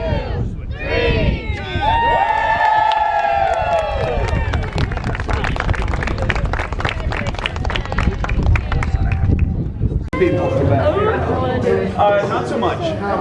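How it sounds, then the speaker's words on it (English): At an axe and dagger throwing venue's ribbon cutting, a crowd breaks into sustained clapping and cheering, loud and close, with babble and a few shouts mixed in before chatter resumes. "When we count to three, you can go ahead and clap."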